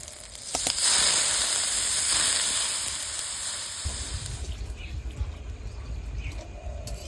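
Water poured into frying egg curry masala in a pan, starting with a loud hissing gush of steam that settles into a lower bubbling simmer, close and without talk.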